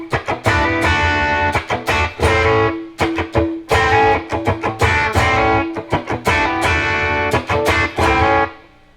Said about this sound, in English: Now you got to put those little Joe Walsh idiosyncrasies into it, and it sounds like this.